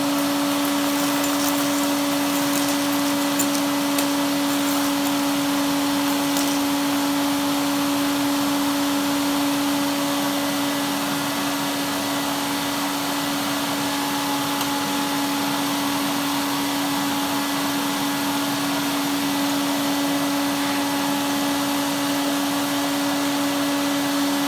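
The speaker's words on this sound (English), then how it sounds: "And let's vacuum up the mess." An Electrolux 347 Hoovermaster vacuum cleaner runs continuously for about 24 seconds while cleaning up spilled mess, a steady close whine with a constant pitch and no break.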